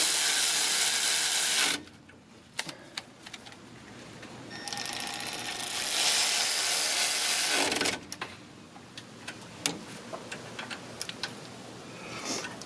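Caliper slide pin bolts on the rear brakes of a 2009-18 Dodge Ram 1500 are snugged up, likely with a ratchet, giving a run of rapid mechanical ticking and clicking. Scattered metallic taps and clunks follow at close range.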